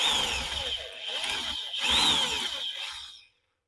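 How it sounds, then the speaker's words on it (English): A power drill bores a hole into a small piece of wood, its motor whining loud and close with a rising pitch swell midway, then cutting off abruptly just before the end. "what I'm going to do is drill a hole into this bit of wood"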